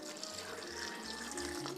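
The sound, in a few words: water being added for blending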